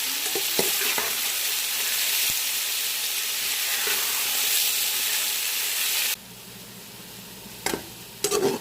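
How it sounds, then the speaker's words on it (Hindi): Onions fry in a pan until golden brown for chicken biryani, giving a loud, continuous close sizzle that drops abruptly to a quieter hiss partway through, followed by a few utensil clatters near the end. "प्याजों को गोल्डन ब्राउन होने तक फ्राई करेंगे।"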